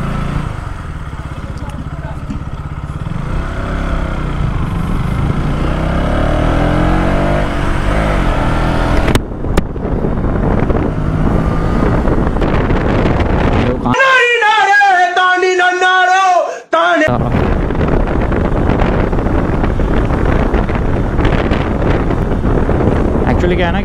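Riding in a car heading toward Dehradun, with loud wind buffeting the microphone and steady road rumble, while someone talks over it.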